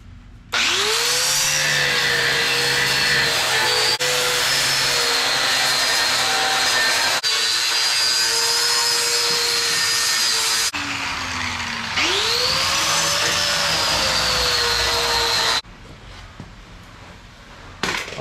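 A power saw cuts through a Ford Explorer steel truck frame between two bolt holes, a loud sustained whine running in several long passes with short pauses, each restart rising in pitch as the blade spins up.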